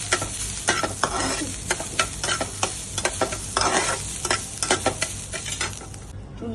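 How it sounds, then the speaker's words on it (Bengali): Sliced sponge gourd sizzles loudly in a hot pan while a spoon scrapes and stirs it in repeated strokes, with a steady frying hiss underneath. "বেশি ভাজবো না।"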